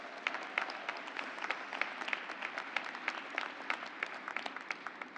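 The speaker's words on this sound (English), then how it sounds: "that definitely deserves a round of applause" Audience applause at a College of Medicine convocation for new physicians, a steady spread of many hands clapping that holds evenly throughout without talk.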